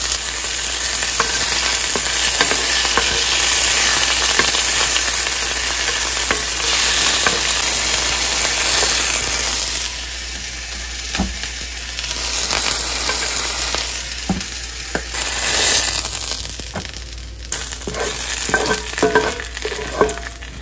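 Red onion sautés in a pan with a loud, dense sizzle that eases partway through. Scattered clicks and scrapes of stirring then punctuate the softer frying.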